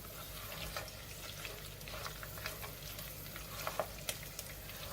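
Garlic sizzles steadily in a hot pan as sugar is stirred in, with a continuous close frying crackle and scattered spoon scrapes, a few sharper clicks near the end, and no talking.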